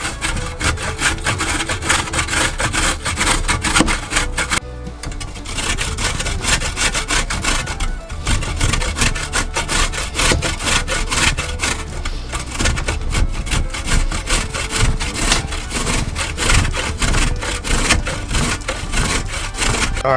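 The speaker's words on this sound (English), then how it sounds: "we're going to take a grater and we're going to grate this up into small little chunks" A frozen block of hickory smoked Spam is rasped hard against a hand grater in quick, rhythmic strokes. The scraping is close, loud and continuous, with a brief pause partway through.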